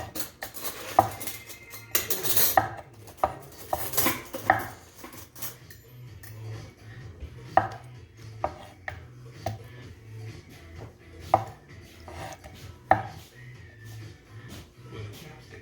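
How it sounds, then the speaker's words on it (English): Knife chopping big scallops into small pieces on a board, a run of sharp irregular taps and clinks with soft background clatter and brief low voice. "Because scallop was so big, so I cut small like this."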